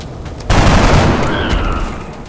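A burst of gunfire from a soldier in the video game XCOM: Enemy Unknown erupts suddenly and loudly after a short quiet, then rolls on as a dense, reverberant rattle that slowly fades.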